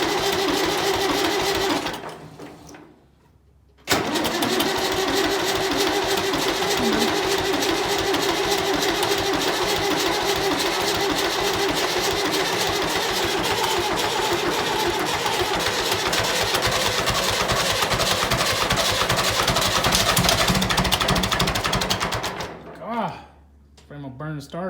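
An engine cranks over, catches and then runs steadily at idle for most of the stretch, loud and close, with a brief pause before the starter engages again, a tractor or vehicle being worked on during a power steering repair.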